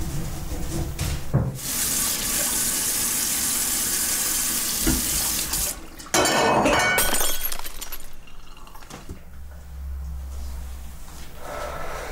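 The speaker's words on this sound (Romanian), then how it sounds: "s-o spart un pahar" A drinking glass from a new set breaks in a home, a sharp crash and scattering shards amid running water from a tap and clattering, with no talk.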